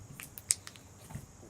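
Crunchy, bubbly slime is squeezed by hand, giving a few sharp close-up crackles and pops over near silence.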